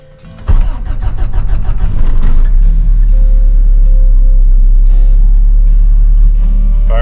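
A 1985 Toyota pickup cold-starts: a few cranking bursts give way to the engine catching and settling into a loud, steady close-up idle.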